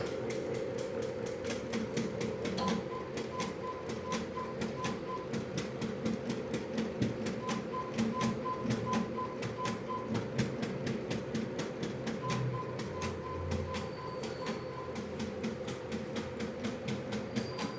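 A computerized embroidery machine stitching in orange thread, its needle hammering in a fast, steady mechanical rhythm with a faint whirring motor, close and continuous with no talking.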